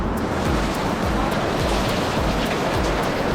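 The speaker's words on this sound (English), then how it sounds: "It's a big storm." A big storm in Koh Samui, Thailand, fills the air with dense, steady wind and rain noise. The roar is loud and constant, with gusts buffeting the microphone.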